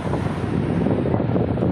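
Strong wind by the sea roars steadily into the microphone, a dense continuous rush with low buffeting and a hint of surf beneath.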